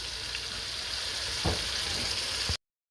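Seasoning fries in a pot with mild jerk sauce for a coconut chicken back one-pot rice dish, making a continuous close sizzle with a couple of soft stirring knocks before it cuts off abruptly.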